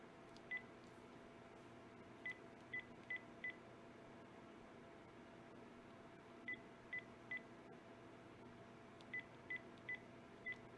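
Touch-tone telephone keypad being dialed, with three quick bursts of short beeping tones separated by pauses, faint and clear over a quiet room with no talking.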